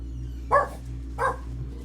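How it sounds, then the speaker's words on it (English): A small dog barks twice, two short, sharp yaps about half a second apart, indoors over a steady low hum. "he might not quit barking"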